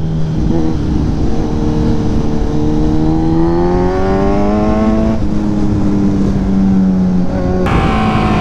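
A Ducati Panigale 959 motorcycle drones steadily while riding, its engine pitch climbing and then dropping, with a loud continuous exhaust note and sharp breaks as the throttle changes.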